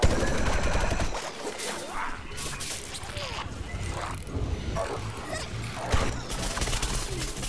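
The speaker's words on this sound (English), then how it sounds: "Who's shooting me?" Rapid automatic gunfire from enemy players in the Plants vs. Zombies: Garden Warfare 2 video game, a dense, continuous rattle of shots mixed with impacts and game effects, loud and sustained throughout.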